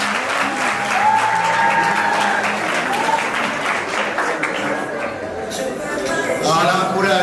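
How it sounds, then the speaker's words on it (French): Applause at a civil wedding ceremony, a roomful of guests clapping steadily and loudly for a child, with voices and chatter mixed in throughout. "On applaudit pour elle."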